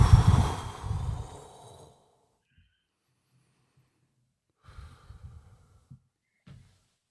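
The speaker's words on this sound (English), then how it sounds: "take deep breath" Deep breathing during a guided meditation: one long, loud, close breath that fades away, then after a pause a few faint, softer breaths.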